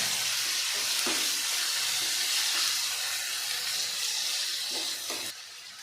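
Tomato and ginger-garlic paste sautéing for pepper chicken masala, a loud constant hiss of frying with a few stirring knocks, dropping off sharply near the end.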